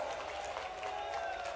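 Crowd applause at a political rally in Datia, a steady wash of clapping from many hands, fairly distant and even throughout.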